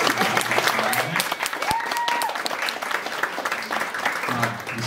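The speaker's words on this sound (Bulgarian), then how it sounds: "силни аплодисменти за" Audience applause at a Christmas poetry reading in a hall, dense clapping with murmured voices and a brief whistle-like tone mixed in.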